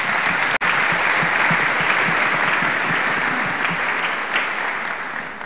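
A congregation at a national church convention claps together in steady, sustained applause lasting several seconds, briefly cut off near the start and then gradually fading toward the end.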